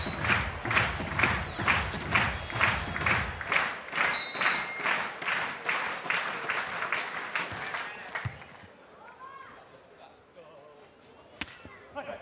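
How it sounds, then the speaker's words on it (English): Crowd at a beach volleyball final at the Prague Open roars and applauds, rhythmic thunderous clapping close and loud for several seconds before fading to scattered claps and a sharp knock. "a big roar from the crowd"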